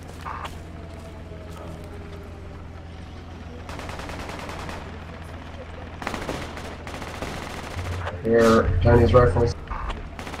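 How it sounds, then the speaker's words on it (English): Chinese rifle gunfire in the Project Reality video game, with scattered shots and a louder burst of fire near the end, heard under steady background noise and a voice speaking. "Chinese rifles. Can't tell the difference."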